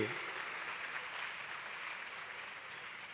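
An audience at a religious discourse during the Vadtal Mahotsav festival claps together in a steady, even wash that fades slightly over a few seconds, fairly faint and without voices.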